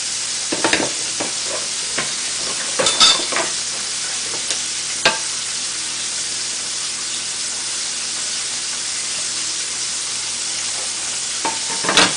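Stuffed French toast with chicken fries in an oily pan, a steady close sizzle and hiss running throughout with a few sharper crackles and pops scattered early and near the end.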